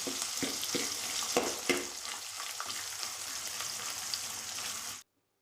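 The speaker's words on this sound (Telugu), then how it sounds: "కోసి పెట్టుకున్నాం కదా ఉల్లిగడ్డ మిర్చి మంచిగా తాలింపులో మంచిగా గోలాలి" Sliced onion and green chilli frying in hot tempering oil, a dense close crackling sizzle with a few sharper pops and stirring knocks early on, steady until it cuts off abruptly, no talking.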